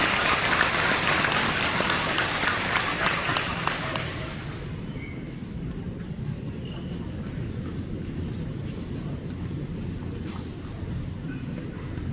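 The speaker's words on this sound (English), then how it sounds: "Let's give it one more big round of applause" Audience applause at a high school awards and scholarships ceremony, a loud dense burst of clapping for the first four seconds, then easing into a quieter room murmur with scattered small sounds.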